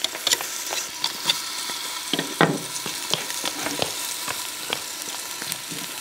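Rabbit shashlik skewers sizzling and frying in a pan, a steady close crackle with sharp pops and occasional stirring scrapes, no talking.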